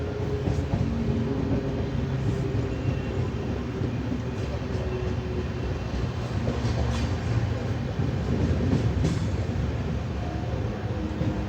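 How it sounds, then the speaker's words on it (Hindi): Onboard a Humsafar Express running through Aligarh Junction while overtaking the Prayagraj Express: a steady, loud low rumble of wheels and carriages continues throughout, with faint clanks and a voice under the noise. "लूप पे लगी है सामने प्रयागराज एक्सप्रेस, उसका हॉल्ट है अलीगढ़ में, तो हम उसे यहाँ पे ओवरटेक करने वाले हैं"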